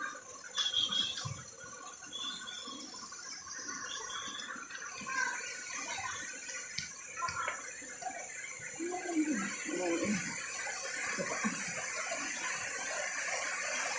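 River water flowing steadily at a campsite, a continuous rushing wash close by, with brief splashes and faint voices now and then over the stream.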